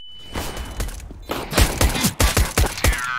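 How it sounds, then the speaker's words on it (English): A thrown flashbang grenade in CS:GO, with a burst of sharp cracks and thumps landing in quick succession after a brief high tone, loud and close, amid several closely spaced gunshot-like bangs from the match. "Let's throw the flashbang."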